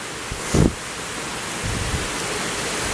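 Heavy rain hisses steadily during a violent thunderstorm in Bordeaux, with a short thump near the start and a low distant rumble of thunder rolling underneath the downpour.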